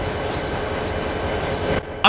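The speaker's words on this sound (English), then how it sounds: "Unfortunately for Elaine, it was her turn to take a train to the New York Central Yard." A train rolls into the New York Central rail yard with a continuous heavy rumble of wheels and cars, steady and fairly loud, before a sudden drop and a short burst at the very end.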